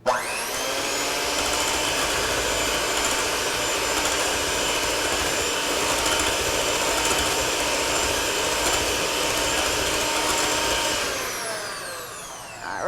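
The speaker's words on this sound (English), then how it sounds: "So you can do it by hand, or if you have a mixer available, you can do a mixer. I'm just going to do the mixer really quickly." An electric hand mixer whirs steadily while mixing coconut snowball batter, a loud continuous motor drone up close that runs nearly thirteen seconds before winding down at the end.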